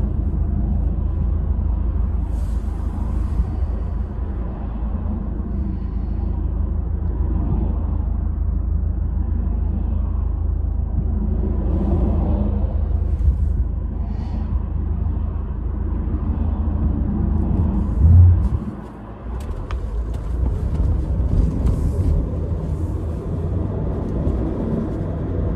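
A 2012 Range Rover Evoque 2.2L SD4 Prestige AWD diesel accelerating on the road, heard from inside the cabin as a steady low engine rumble and road noise with a brief bump partway through, no talk.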